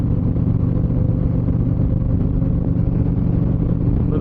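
Twenty-six motorcycles in a group ride on a narrow two-lane New Mexico highway, their engines a loud, steady, close rumble throughout with no voices.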